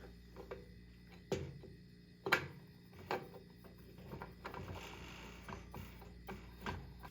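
Small metal parts being screwed in during a rough ceiling fan restoration: a few sharp clicks and ratcheting ticks with scattered handling clatter, close and fairly quiet, with no talking.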